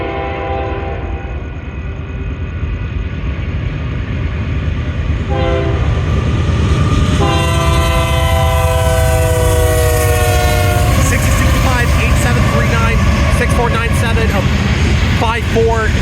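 A Union Pacific manifest freight train led by locomotive 6065 rolls past a road crossing at Warner Road, its long horn blasting several times over the loud rumble and clickety-clack of the cars, close and continuous.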